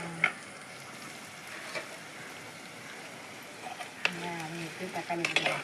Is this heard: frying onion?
yes